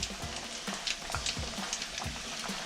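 Food, just flipped over with a bit of crust on it, sizzles and crackles in a hot pan, a continuous close frying hiss with irregular pops.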